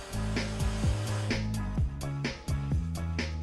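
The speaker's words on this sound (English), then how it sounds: "Then he sprays the color on carefully and evenly before drying it off with a blow dryer." A hair dryer blows on a leather car seat after color has been sprayed onto it, a strong steady airflow whose pitch rises and falls as it is moved, with several brief interruptions.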